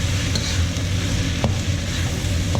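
Loud, steady sizzling of yakisoba noodles with shrimp and beef stir-frying in a hot pan, with occasional scraping and stirring sounds close by.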